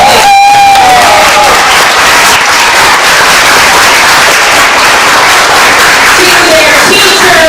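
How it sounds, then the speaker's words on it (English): Audience applause and cheering for school performers at a Harlem Renaissance show, a loud, steady wash of clapping and crowd noise filling the whole stretch, with voices mixed into the din. "Give them another round of applause."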